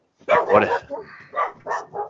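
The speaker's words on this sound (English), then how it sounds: "dogs are excited" Dogs bark excitedly inside a house, a quick cluster of sharp close barks followed by a few shorter yips.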